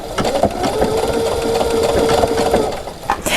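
A sewing machine stitches appliqué with an open toe foot, running as a steady, close, fairly loud whirring hum for about two and a half seconds before slowing and stopping.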